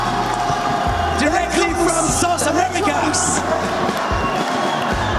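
Esports championship arena crowd at a Call of Duty final cheering and clapping for a team, a steady roar of voices and applause beneath an announcer talking over a loud PA.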